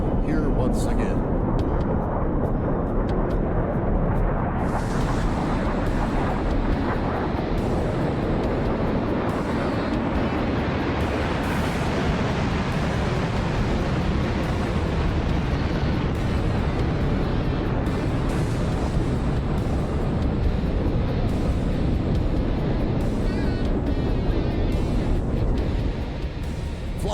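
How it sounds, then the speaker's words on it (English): A loud, sustained roar of an F-4's General Electric J79 axial-flow jet engines in a video game rumbles continuously throughout, dense and broadband, swelling slightly early on and holding steady as if powering up for takeoff. "get ready to hear the sound of the General Electric axial flow J79 engines"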